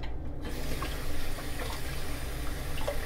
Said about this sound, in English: Cold water rinsing